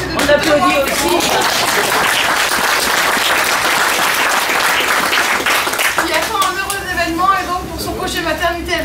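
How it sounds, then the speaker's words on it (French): Loud, sustained applause from a crowd at the inauguration of a health centre, a dense wash of clapping that runs for several seconds before tapering as a voice returns over the room. "On applaudit aussi."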